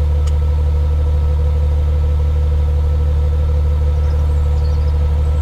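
A BMW 760 Li V12 idles smoothly and evenly, a steady, loud, close low hum with no fluctuation or misfire, heard alone without any talk.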